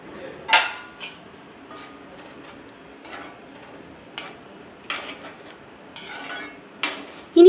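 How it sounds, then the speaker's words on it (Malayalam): A spoon stirs and scrapes through Kerala-style egg curry in a cooking pot. Soft, irregular scraping and light metallic clinks come close but fairly quiet, ending in a louder clatter. "ഈ കറിയൊന്ന് വെന്താൽ മതി നമുക്കിത് അടച്ചു വയ്ക്കാം നമ്മുടെ മുട്ടക്കറി എന്തായി എന്ന് നോക്കാം ആ പാകത്തിനായിട്ടുണ്ട് നമുക്കിതൊന്ന് ഇളക്കി നോക്കാം"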